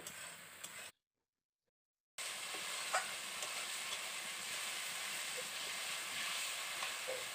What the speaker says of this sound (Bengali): আলুটাকে দিয়ে আবারও ভালো করে আমি কষিয়ে নেব।